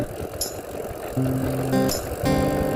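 A bicycle rolls along a quiet mountain road on Marmara Island, with steady wind rush and tyre hum close by and brief tonal whirs that swell toward the end. No voices, no traffic.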